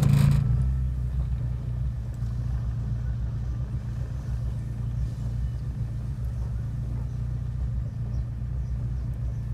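A stationary car's engine idles in neutral, a low, steady rumble running evenly throughout after a brief louder start, close and unaccompanied by speech.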